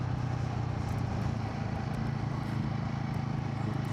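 A Royal Enfield Guerrilla 450 motorcycle engine drones steadily as its revs ease down while the rider shifts into lower gears, a continuous close rumble with no voice.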